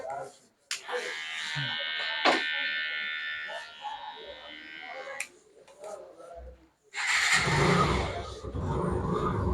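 An electric hair trimmer buzzes steadily for several seconds while cutting hair and beard, then stops, with a voice talking over the work and a burst of handling noise near the end.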